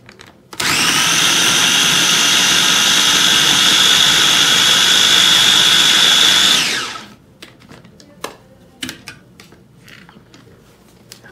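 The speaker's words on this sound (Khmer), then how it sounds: "យើងកិនវានៅក្នុង4ទៅ5វិនាទីបាទ" Electric kitchen grinder whirs loud and steady for about six seconds while blending ingredients for a pineapple chicken cabbage stir-fry, then winds down, followed by scattered clicks and handling noises.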